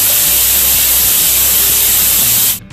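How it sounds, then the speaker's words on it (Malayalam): A pressure cooker cooking tomato rice releases steam in a loud, continuous close-up hiss that cuts off abruptly near the end. "3 വിസിൽ വന്നിട്ടുണ്ട്."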